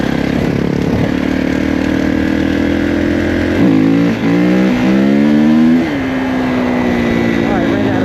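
Kawasaki KX450 dirt bike engine, a 2021 model on a trail ride, revving hard with pitch climbing and hitting the limiter, loud and close, with a voice talking over it.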